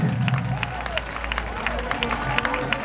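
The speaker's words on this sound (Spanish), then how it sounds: "Vamos a dar unas palmas, Casetas." A crowd claps hands at a street event in Casetas, Zaragoza, with sharp irregular claps spread across the scene and a low background rumble beneath.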